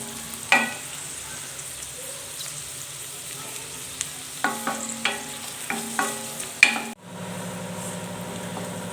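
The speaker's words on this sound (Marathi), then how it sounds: "कमी गॅसवरच छान असा भाजून घ्यायचा आहे" Onion frying on low heat in a pan for masala pav, a gentle steady sizzle with a series of sharp spatula knocks and scrapes, ending in an abrupt change to a low hum.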